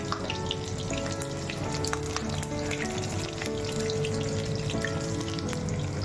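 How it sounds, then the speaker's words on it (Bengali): Chicken fingers frying in a pan of oil in a home kitchen, giving a close, continuous crackling sizzle with scattered pops and no voices. "আমি একটু ফ্রাই করে দিই"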